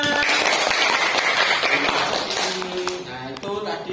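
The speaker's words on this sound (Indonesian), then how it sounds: "beri tepuk tangan" A class of fifth-grade pupils claps after a teacher's request, a dense patter of hand claps with children's voices and chatter mixed in, fading slightly toward the end.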